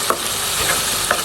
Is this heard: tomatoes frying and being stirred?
yes